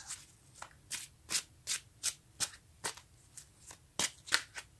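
Tarot cards are shuffled by hand in a quick, regular series of crisp riffling bursts, about a dozen close, fairly quiet flicks with short gaps between them.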